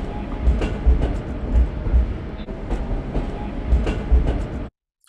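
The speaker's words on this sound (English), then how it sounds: "There's also a percussive loop from the train itself." A percussive loop built from a train recording in a soundscape composition: rhythmic rumbling clickety-clack beats of railcars repeating at an even pulse, loud and dense, cutting off abruptly before the end.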